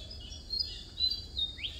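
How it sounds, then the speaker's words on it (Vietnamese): Faint high bird chirps and short calls repeat over a low outdoor rumble at a fishing spot in Sóc Trăng, Vietnam, fairly distant, with no talking. "nghe chim kêu sướng lỗ tai"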